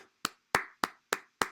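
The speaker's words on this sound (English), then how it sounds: "We can give them a round of applause" A short burst of applause for a sports team: five sharp, evenly spaced claps, close and loud against silence.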